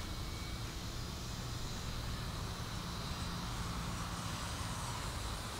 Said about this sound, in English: The airplane is just awesome